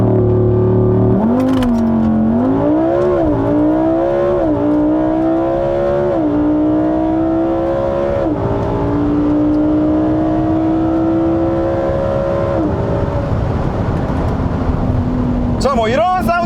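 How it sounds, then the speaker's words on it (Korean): A Lamborghini Huracan EVO's exhaust roars loud and close under launch control, a sustained high-rpm howl stepping up through several rising pulls before dropping off near the end. "런치 컨트롤을 하면서의 배기음도 한번 좀 들려드리는 것으로 하겠습니다"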